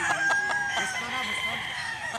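A Boston bloodline rooster crows once, a loud close drawn-out call, with some clucking and faint voices in the background.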